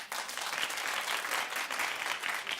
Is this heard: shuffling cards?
no